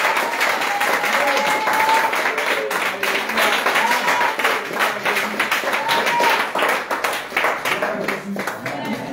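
A church congregation claps and applauds during a French-language revival service, rhythmic hand claps mixed with a voice calling out and some singing; the clapping stays loud and close throughout.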